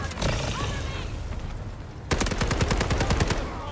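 An SMG-45 submachine gun fires a loud, rapid sustained burst in the Delta Force video game, following a stretch of dense, noisy battle ambience and a brief lull.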